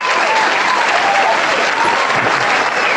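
Applause from an audience, a continuous loud wash of many hands clapping at an even level from start to finish.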